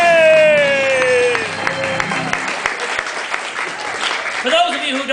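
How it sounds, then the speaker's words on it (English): A club audience bursts into a round of applause for their organist, dense clapping with cheers at the start that thins into scattered claps and murmuring chatter. "A nice round of applause for our club organist, Fingers."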